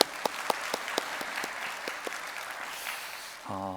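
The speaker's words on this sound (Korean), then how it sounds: "우리 하나님께 감사의 박수 올리겠습니다." Church congregation at a Korean service gives a round of thanksgiving applause, dense continuous clapping with a few sharp louder claps near the start, fading before a short musical tone.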